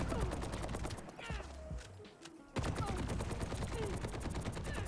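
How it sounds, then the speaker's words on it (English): In the Overwatch 2 video game, Helix rockets are emptied into Zarya as a dense, rapid stream of popping shots and impacts that breaks briefly around the middle and then resumes, with game effects layered underneath. "what we're gonna look at instead is a mag dump of body shots with the Helix rockets into Zarya."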